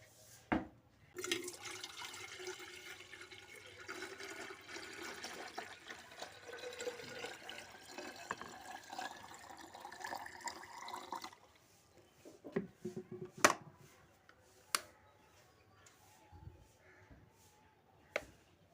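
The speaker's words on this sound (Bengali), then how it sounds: "তাড়াতাড়ি করে আবার জলটা গরম করি।" Water filling a vessel at home to be heated for drinking: a steady rushing pour for about ten seconds, followed by quiet pauses and a few sharp clanks and knocks.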